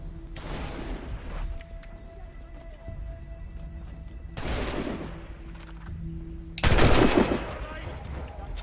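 Three separate volleys of rapid gunfire erupt in Assassin's Creed 3, each a loud crackling burst lasting about a second, spaced several seconds apart over a quiet ambient background.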